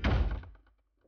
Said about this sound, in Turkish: Öyle vurma kapıya